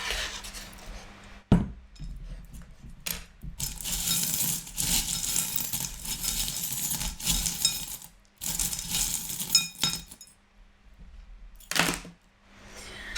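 Small metal charms cast onto a surface for a divination reading make a sharp clattering rattle, followed by several bursts of jingling and clinking with quiet gaps between them.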